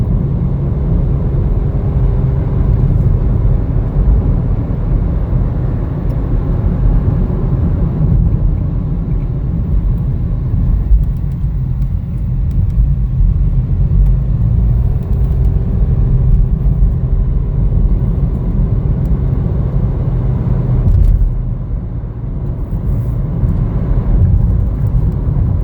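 A 2021 Chevrolet Trailblazer LS on the road, heard as a constant loud low rumble of engine and tire noise from inside the cabin, with no break throughout.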